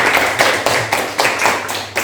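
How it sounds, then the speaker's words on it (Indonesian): An audience claps their hands after a Minangkabau creative dance performance in a classroom, a fairly loud, even rhythm of overlapping claps swelling in pulses. "tepuk tangan"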